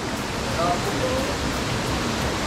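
Haduan Falls waterfall in Clark, Pampanga, a steady broadband roar of falling water, loud and unbroken, with a faint voice briefly underneath.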